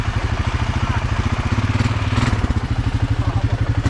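A motorcycle engine held at throttle while partly in the water of Silver Lake, a rapid pulsing chug that stays loud and close, with people talking over it.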